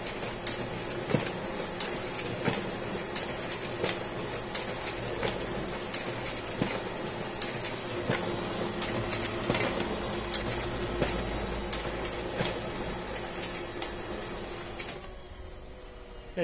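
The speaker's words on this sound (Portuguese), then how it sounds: "mostrar para vocês como fazer impressões duplex na impressora P4014N e aproveitando também mostrando aí a velocidade da impressora com impressão" An HP LaserJet P4014N laser printer runs a duplex job, its steady mechanical whir broken by a regular series of clicks and clacks as pages feed through, fairly close and continuous before easing off at the end.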